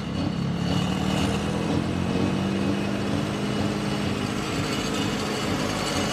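An Oliver 88 pulling tractor with a 5.9 Cummins diesel engine roars continuously and loudly at a tractor pull, a dense, unbroken engine drone that holds steady throughout.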